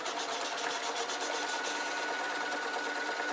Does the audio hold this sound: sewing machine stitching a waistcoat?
yes